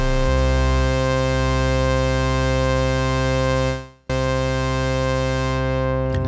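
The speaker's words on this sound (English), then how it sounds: "We'll add in the sub oscillator." A Roland System-1m synthesizer with its sub oscillator added holds a steady, loud, buzzy sustained tone with a deep low end, briefly dipping to silence near the end before resuming.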